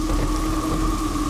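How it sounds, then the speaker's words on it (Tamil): Heavy rain pours steadily with a constant dense hiss, a low rumble of thunder underneath, loud and close throughout the short stretch with no voices in a Tamil horror comedy setting. "ஐயோ இவ்வளவு மழை பெய்யுதே"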